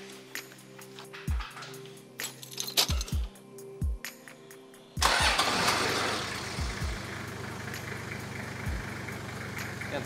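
A turbocharged Toyota 1HZ diesel engine cranks with a few sputtering turns, then catches and settles into a steady, rattly idle close by.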